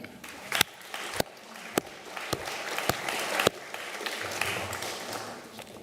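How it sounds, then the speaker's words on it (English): Scattered audience clapping at a research symposium, a handful of sharp separate claps spaced out over low room murmur, quieter and sparse rather than a full ovation. "So give yourselves all a clap."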